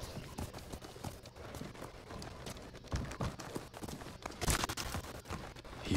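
Horse hooves clip-clop at a steady riding pace in the video game Ghost of Tsushima, a continuous rhythmic patter of close hoofbeats with some louder scuffs, heard alone.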